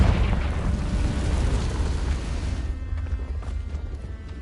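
A Confringo blasting spell in Hogwarts Legacy, a loud rumbling explosion that roars broadly and then decays into a fading crackling tail.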